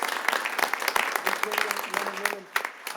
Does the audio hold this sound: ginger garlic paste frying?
no